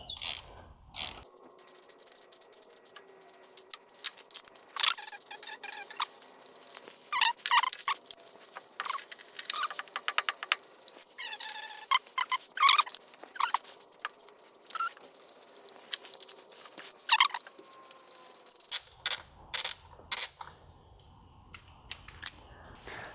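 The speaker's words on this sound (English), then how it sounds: "Now we are going to be removing our spark plugs," Ratchet wrench clicking in quick bursts while spark plugs come out of a VW 2.5L five-cylinder engine, close and crisp, with short pauses between runs of clicks and no talking.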